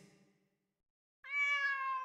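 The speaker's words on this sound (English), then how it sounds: "A cat!" A cat in the Demon Slayer PS5 game gives one clear, fairly loud drawn-out meow in the second half, after a short stretch of quiet.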